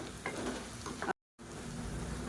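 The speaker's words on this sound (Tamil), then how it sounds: "லேசாக அந்த இலை சுருங்குற அளவுக்கு மட்டும் வதக்குனிங்கன்னா நல்லா வாசனையாக இருக்கும்" Coriander leaves sautéing in a pan for chutney, a steady soft sizzle with stirring scrapes, broken by a brief silent cut.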